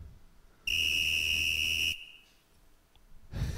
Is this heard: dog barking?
no